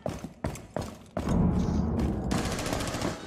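Gunfire in Rainbow Six Siege: a few sharp separate shots, then a sustained rapid spray of automatic fire, loud and close, with no talk over it.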